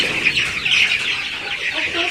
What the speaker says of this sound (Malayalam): അപ്പോൾ ഇതാണ് നമ്മുടെ ഗ്രാമശ്രീ കോഴിക്കുഞ്ഞുങ്ങൾ.